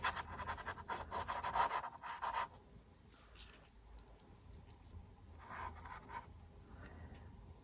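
A brush scrubs across the surface of an oil painting, making dry, close rubbing strokes in short bursts. A dense burst of scrubbing comes first, then quieter intermittent strokes follow.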